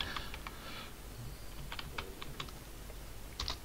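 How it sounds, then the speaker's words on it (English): Fingers tapping out a command on a computer keyboard, a quiet irregular run of close, crisp keystrokes with short pauses between bursts, no talking. "you go back to your command line and type in"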